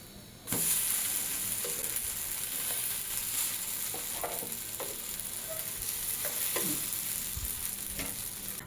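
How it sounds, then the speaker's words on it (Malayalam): Dosa batter hits a hot griddle stone and erupts into a steady, close, loud sizzle with light scraping and tapping sounds scattered throughout. "കല്ല് നല്ലപോലെ ചൂടായിട്ടുണ്ട് കേട്ടോ. നമുക്ക് ദോശ ബാറ്റർ ഒഴിച്ചു കൊടുക്കാവേ."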